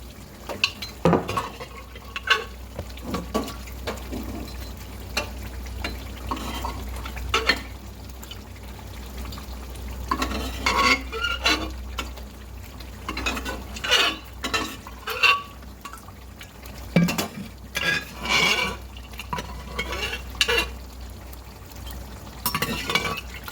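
Meat being stir-fried in a pan, with a low simmering bubble under irregular clatters of a spoon against the pan and occasional scraping bursts, close and fairly loud, with no speech.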